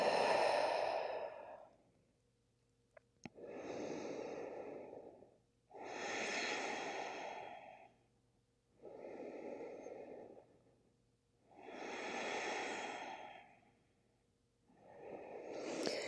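Slow, deep breaths during a yoga exercise: five or six long, loud airy exhales and inhales, close by and alone, with short quiet pauses between them.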